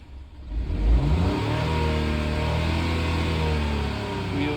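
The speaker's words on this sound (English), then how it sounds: "now when I rev the engine up" A Vauxhall/Peugeot car engine with a wet belt and low oil pressure fault revs up from idle into a loud, sustained rising drone, close by, with no voices.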